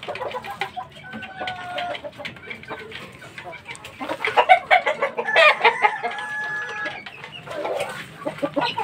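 A talisay broodcock gamecock clucks in a run of short, close clucks that grow busier midway, with a few crowing-like calls and faint talk in the background.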